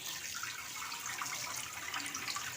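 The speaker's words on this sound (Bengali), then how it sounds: "প্রথমে শাকগুলোকে আমি পরিষ্কার করে ধুয়ে নেব, যাতে বালি টালি না থাকে।" Spinach leaves being washed under running water: a steady, hissing stream splashing in a sink, continuous and moderately quiet.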